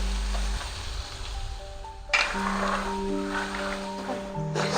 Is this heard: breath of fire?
no